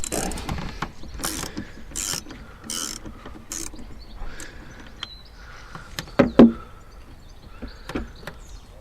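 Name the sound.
10mm ratchet loosening Volvo battery negative post nut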